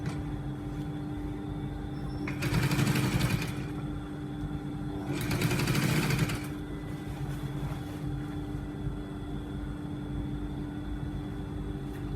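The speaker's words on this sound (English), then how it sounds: "I'm going to stitch it." Two short bursts from a sewing machine stitching a shirt collar, each a few seconds of fast, whirring needle chatter over a quiet, humming room.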